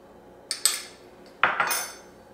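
Metal utensils clinking against a bowl while salt is added to dry cookie ingredients, two short bursts of close, bright scraping and tapping.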